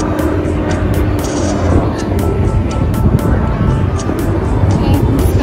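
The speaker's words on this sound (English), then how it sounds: "Like a day for helicopters because you can hear them non-stop." Continuous rumbling engine noise of helicopters flying overhead with a faint rotor-like throb, loud and steady, with brief sharp clicks scattered through and possible talk underneath, in Niagara Falls, Canada.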